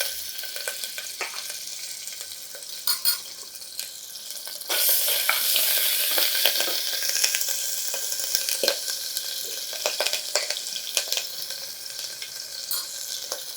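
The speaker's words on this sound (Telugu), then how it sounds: "సో గీ కొద్దిగా వేడెక్కిన తర్వాత ఫస్ట్ ఇందులో మనం గ్రేట్ చేసుకున్న జింజర్ పేస్ట్ వేద్దాం" Grated ginger paste hits hot ghee in a pan and sizzles steadily, growing louder and denser midway, with scattered pops and clinks of stirring; no one talks.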